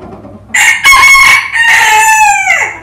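An ornamental bantam rooster crows loudly and close up in a farm coop, a single drawn-out cock-a-doodle-doo with a strained, tapering finish.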